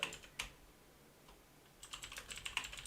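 A computer keyboard being typed on: two isolated keystrokes, a pause, then a fast flurry of clicking keys, quiet and close with no speech.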